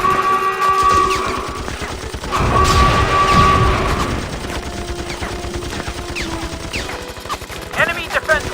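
Rapid minigun turret fire rattles through a busy battle in the video game Mighty Battles, layered with other loud game effects and mechanical clatter over several seconds.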